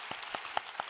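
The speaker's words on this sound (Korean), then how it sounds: "여러분, 서로를 위해서 박수 한번 치겠습니다" A church congregation claps together in a brief burst, a few soft distinct claps spaced evenly and sounding somewhat distant.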